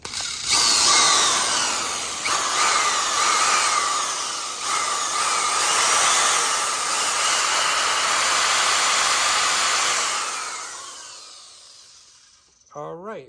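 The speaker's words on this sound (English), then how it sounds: "All right, so we got the drill here." Electric drill powered through a 2000W pure sine wave inverter, a loud sustained whine running steadily for about ten seconds before spinning down and stopping.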